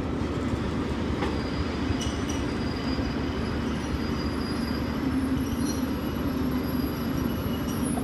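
Passenger train with old carriages, including a 1985 East German coach, on a route toward Almaty, rolling past with a loud, continuous rumble of wheels, faint squeals and light rail clatter.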